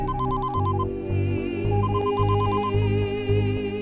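Telephone ringtone ringing in a loud, repeating electronic melody, cycling a short bright phrase over a pulsing lower pattern, close and continuous with no voices.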